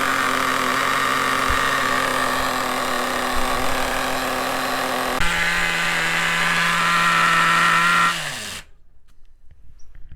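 A nitro RC engine runs rich during break-in, a loud, steady, high-pitched buzzing drone that shifts pitch slightly midway, then abruptly cuts out and leaves near silence.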